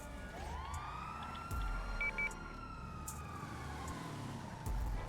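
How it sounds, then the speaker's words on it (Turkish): A police siren in a GTA roleplay game wails faintly in the distance, rising and falling over a low engine rumble. "Polis sesi duyuyorum ben"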